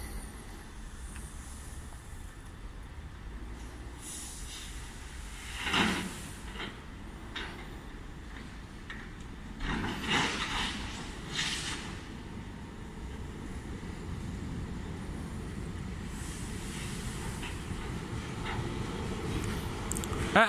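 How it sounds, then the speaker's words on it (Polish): Regio passenger train from Szczecin Główny bound for Koszalin, an EN63H unit, rolling into Goleniów station with steady rumble and brief brake squeals and rail clatter, mid-distance and building over time. "Wjeżdża pociąg Regio, relacji Szczecin Główny,"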